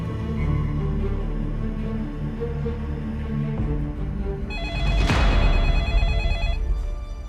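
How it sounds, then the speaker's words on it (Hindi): A telephone rings persistently indoors in a Pakistani TV drama scene, its repeating electronic bell pattern rising over a low rumbling background and sounding alone, with no voices. "क्या इतनी देर से फोन बज रहा, उठा क्यों नहीं रही हो तुम?"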